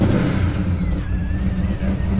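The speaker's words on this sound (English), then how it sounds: "Car started." A Pontiac G8 engine has just started and runs at a loud, close idle with a slight rev, its rumble steady throughout and no voices over it.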